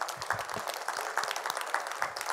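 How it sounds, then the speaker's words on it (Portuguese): Church congregation applauding, a scattered, moderately loud patter of many hands with uneven rhythm that carries on steadily for a couple of seconds. "Aplaudimos ao Senhor."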